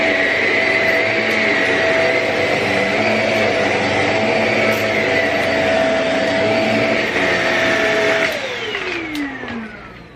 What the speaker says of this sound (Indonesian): saat saya membersihkan pakai vacuum cleaner